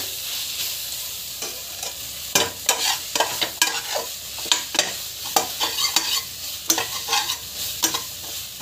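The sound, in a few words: sautéing masala with chili powder and green chili in a pan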